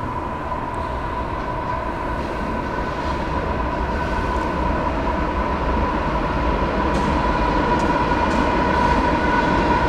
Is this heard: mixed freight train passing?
yes